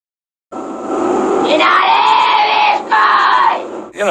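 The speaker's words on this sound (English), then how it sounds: "You know, she's screaming." A girl lets out a loud, sustained scream lasting several seconds, raw and strained, with a brief break in the middle before she trails off.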